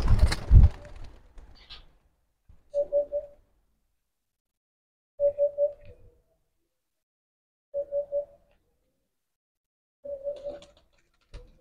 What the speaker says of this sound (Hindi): तो गाइस कबूतर हमने तो उड़ा दिए